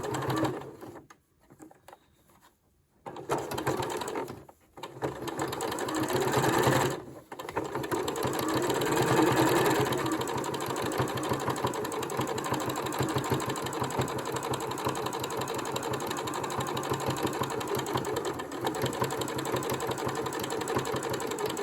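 A sewing machine runs in fast, rhythmic bursts while stitching a fabric face mask, with brief pauses early on, then a long, steady whirring run close by.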